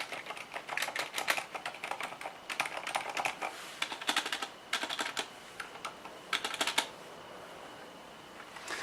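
Rapid typing on a Corsair K70 RGB MK.2 Silent mechanical keyboard, close-up bursts of soft muted key clicks in uneven clusters separated by brief pauses, no voices.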